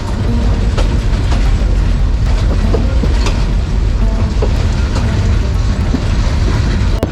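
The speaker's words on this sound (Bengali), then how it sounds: "আমাদের লোকাল ট্রেনটি কত আস্তে আস্তে চলে যাচ্ছে দেখুন" A local train rolling slowly along the tracks on a route through green countryside, a steady close rumble with faint clickety-clack filling the whole stretch.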